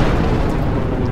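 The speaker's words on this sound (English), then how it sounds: "the balefire egg unleashed a magnificent explosion of green" A balefire egg detonates as a loud, sustained roaring blast, a dense low-heavy boom that fills the whole moment with no break.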